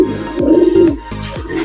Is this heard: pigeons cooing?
yes